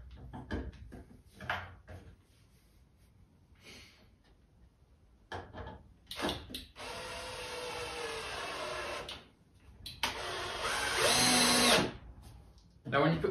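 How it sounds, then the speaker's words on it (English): A power drill drives screws into wood for a whiskey barrel coffee table top. The motor whirs up in several bursts of a few seconds each, close and fairly loud, between stretches of someone talking. "Now when you put the screws into the wood,"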